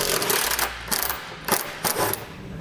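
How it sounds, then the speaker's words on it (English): Ratchet wrench fitted with a 13mm socket turning belly pan bolts underneath a 2019 Jeep Cherokee, giving bursts of rapid clicking separated by short pauses, close and fairly loud with no talking. "We're going to take a 13mm socket. We're going to have 3 bolts along the front."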